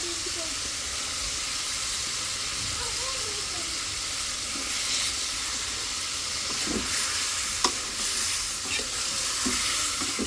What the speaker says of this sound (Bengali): আমি কষায় রান্না করতেছি শাক দিয়ে।